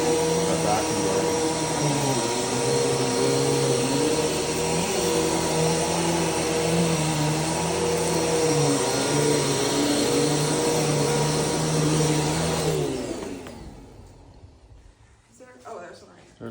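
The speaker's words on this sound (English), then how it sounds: "start spraying and scrubbing with a vacuum blade" A loud carpet-cleaning vacuum motor drones steadily with a whining hum, then cuts off and winds down near the end, leaving quiet room noise.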